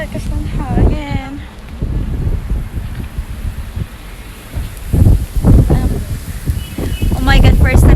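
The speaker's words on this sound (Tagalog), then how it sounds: "Ang lakas ng hangin, ayan oh, ang lakas." Gusty outdoor wind blasts the microphone in uneven low rumbles that swell and ease, with a person speaking briefly near the start.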